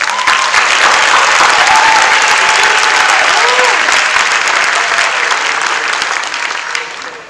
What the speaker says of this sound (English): So I think we ought to give her a round of applause.